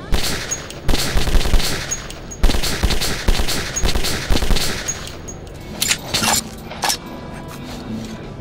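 Weapons fired on an underground firing range in the video game Metro: loud bursts of automatic gunfire and sharp single shots in rapid succession, with metallic clinks and pauses between volleys.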